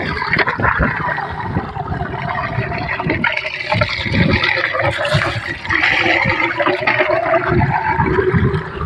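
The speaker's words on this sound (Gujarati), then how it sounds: "ચાલુ કરી નાખીએ ચાલુ થઈ ગઈ છે મોટર આપણે આજે જો કેટલું પાણી આવે" A water pump motor starts up on a farm and water gushes out, making a loud, rushing, splashing flow with gurgles that carries on steadily at close range.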